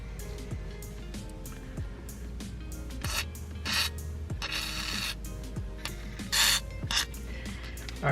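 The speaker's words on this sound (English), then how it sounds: "Now I'm going to put some WD-40 back here because I still don't have a proper loosening fluid" WD-40 sprayed onto a seized axle bolt on a Subaru WRX with a broken axle, heard as several short, close hissing bursts among scraping and metallic rattles.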